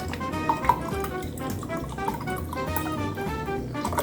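Coconut water poured into a matcha drink, a soft, steady liquid trickle lasting a few seconds with a couple of small splashy peaks near the start, close up and alone without talk.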